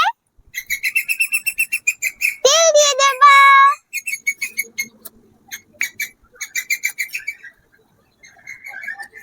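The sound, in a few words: birds calling outdoors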